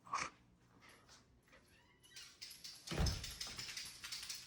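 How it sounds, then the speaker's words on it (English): A truck door shuts with one solid thud partway through, followed by rustling and movement in a quiet setting before a road trip. "Let's close the door."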